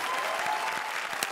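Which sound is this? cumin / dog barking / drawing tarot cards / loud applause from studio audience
loud applause from studio audience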